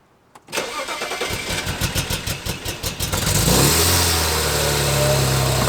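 A BMW E90 with an N54 engine cranks with a rapid pulsing starter whir for a few seconds, then catches and settles into a loud steady idle, close by.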